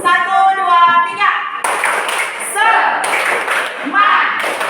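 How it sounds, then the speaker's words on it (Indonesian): A group of teachers and students in a classroom do a rhythmic 'tepuk semangat' clapping chant, with sharp patterned claps in bursts between spoken and chanted voices. "Sebelum kita tepuk semangat dulu."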